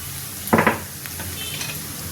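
Spice powders such as turmeric, coriander and cumin being stirred into a hot cooking pan, a soft steady sizzle with one brief scraping burst of the spoon, faint and close.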